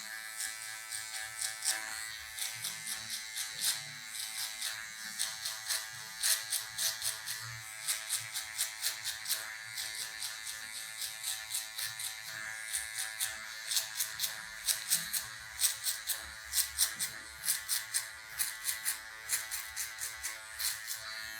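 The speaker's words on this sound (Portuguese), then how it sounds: "agora nós vamos remover essa marcação com a ponta da máquina de acabamento" A cordless hair trimmer buzzes steadily close up, its blade working at a marked line while cutting a mid V fade, with rhythmic pulses as it touches hair, continuous for the whole stretch with no talk.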